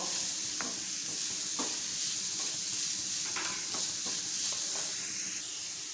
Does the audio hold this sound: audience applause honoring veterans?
no